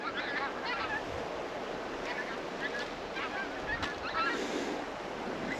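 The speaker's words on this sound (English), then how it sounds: "Some geese flying overhead." Faint goose honks drift in from a distance over steady outdoor ambience at Culloden Moor, a few scattered calls from geese flying overhead rather than a dense flock.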